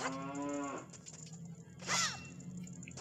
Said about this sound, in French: Pourquoi il y a une vache?